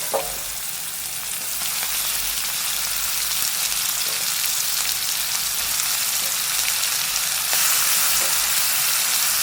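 Chopped tomato sautéing in a pan for an ivy gourd curry: a dense, even sizzle carries through at close range, broken by a few faint stirring clicks, with no talking.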